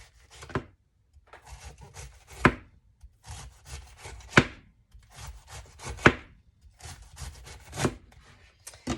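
A knife slices a fresh head of cabbage into thin shavings for sauerkraut, making crisp rhythmic rasping cuts in bursts, each ending with a sharp tap on the board, close and clear.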